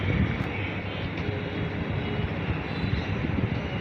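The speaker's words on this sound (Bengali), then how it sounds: "helicopter helicopter" A helicopter in the video game Rope Hero makes a loud, steady engine roar that holds without a break.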